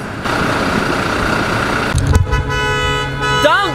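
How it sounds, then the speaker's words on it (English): A car horn honks amid London street traffic in the evening, a short toot rising over steady road noise near a vehicle with a flat tire, with brief voices nearby. "How dare you horn?"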